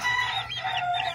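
An Asil chicken clucking softly up close, a short run of throaty calls with a faint hum behind.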